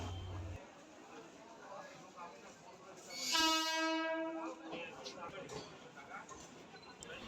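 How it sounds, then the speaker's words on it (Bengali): A passenger train arrives at a station and gives one loud horn blast midway through, over a background of rumble and crowd noise. Voices can be heard around it. "তো যাই হোক, ট্রেনটা চলে এসছে।"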